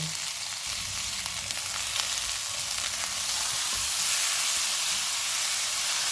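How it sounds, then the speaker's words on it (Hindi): Tomatoes and green chillies fry in a pan for butter chicken, giving a continuous, even sizzle and hiss that holds steady throughout with no talking. "4 मिनट के बाद 2 टमाटर डालेंगे, 3 सब्ज़ मिर्चें। इनको 2 से 3 मिनट तक भूनेंगे।"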